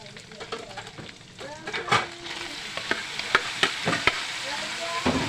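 Chunks of bottle gourd (upo) sizzle and crackle in a hot pan as they are stirred, with scraping clicks of the utensil punctuating the steady frying close by.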